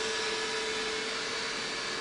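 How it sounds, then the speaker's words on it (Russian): A steady, faint whirring hum with a constant high whine drones on without a break from a Xiaomi Roborock robot vacuum cleaner running nearby. "по шуму чуть-чуть потише, чем обычный пылесос, да? Но шумновато, да, все равно?"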